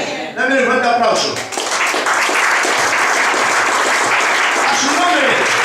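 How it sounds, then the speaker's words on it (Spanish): A church congregation claps loudly during a Spanish-language sermon, dense applause that swells after a brief spoken line and continues steadily, with voices calling out over it. "Dame un fuerte aplauso."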